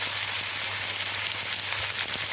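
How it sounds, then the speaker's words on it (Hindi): Chicken pieces coated in garlic and ginger paste fry with browned onions in a pan, giving a steady, close, even sizzle throughout with no talk. "इसे डालकर हमें अच्छी तरह से भून लेना है।"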